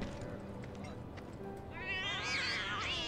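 Several cats meow in the undercity of Final Fantasy 7 Remake, high wavering meows rising over background game ambience and music, overlapping one another near the end.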